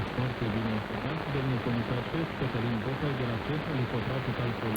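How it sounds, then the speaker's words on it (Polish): A medium wave broadcast station, picked up on a rain gutter used as an antenna, comes through faintly as a voice buried in steady, hissing radio static. "Jest jakaś stacja broadcastowa na falach średnich. Średnio ją słychać w szumach"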